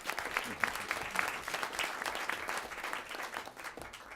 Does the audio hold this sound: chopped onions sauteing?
no